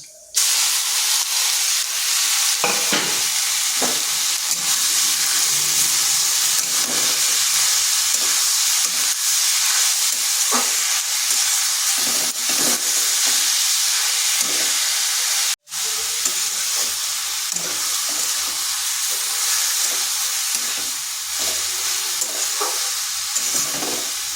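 Panch phoron and a dry red chilli crackling in hot oil, then chopped bottle gourd added, giving a loud, steady sizzle with stirring scrapes throughout and one brief break near the end.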